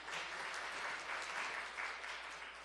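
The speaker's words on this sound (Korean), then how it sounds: "박수로 축하해 주시기 바랍니다." A church congregation applauds during a Sunday service, a soft, even wash of clapping that holds steady for a couple of seconds, fairly distant and with no voices over it.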